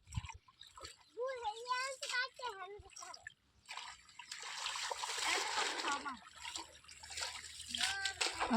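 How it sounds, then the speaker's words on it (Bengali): Water splashes and sloshes as a girl swims. A voice and other voices sound close by, and a burst of splashing rises in the middle. "কিভাবে সাঁতরাইতেছে পানিতে।"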